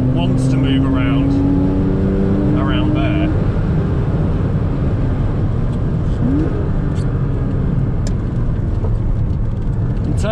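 A Porsche Boxster S is driven fast around a race track with traction control off, its engine droning loudly and rising in pitch beneath someone talking over it.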